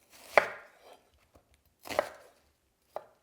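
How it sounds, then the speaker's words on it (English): A knife chops a red onion into chunks on a cutting board: three crisp, close thuds, the first two followed by a brief scraping trail and the last short and sharp, with near-silence between them. "I'm going to take this onion and I'm just going to cut this into chunks"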